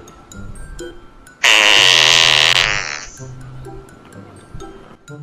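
A loud, raspy fart sound blasts for about a second and a half in a Fortnite game, standing out sharply over quieter game noise and brief clicks.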